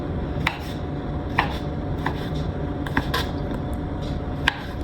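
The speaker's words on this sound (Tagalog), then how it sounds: "Then, ito-chop natin to." Hotdog sliced with a knife on a cutting board while cooking pasta, a handful of sharp, separate chops landing at irregular intervals over a steady background hiss, close by with no talking.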